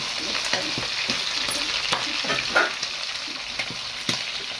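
Chicken liver and gizzards sizzle in a hot pan as the water cooks off, a continuous bright hiss broken by soft stirring knocks, moderately quiet and without talk.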